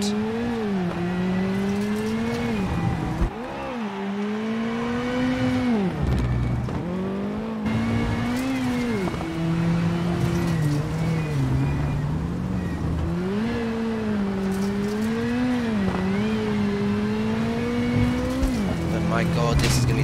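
A WRC rally car engine in WRC 7 on a French tarmac stage, revving hard and continuously, rising and dropping through gear changes, with a commentator talking over it.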